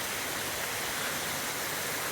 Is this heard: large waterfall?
yes